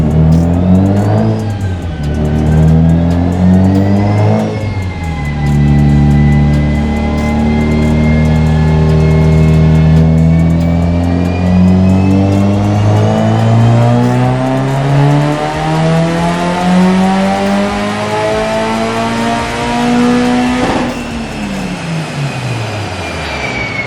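A Mitsubishi Evo 8 on ethanol roars through a full dyno pull, loud and close, its engine note sweeping upward after a couple of early dips and climbing for about twenty seconds before the revs drop away abruptly.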